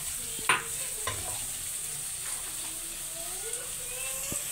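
Small chopped onion and cumin seeds fry in hot oil with a steady close sizzle and hiss, broken by a few soft stirring scrapes and clicks of a spoon against the pan.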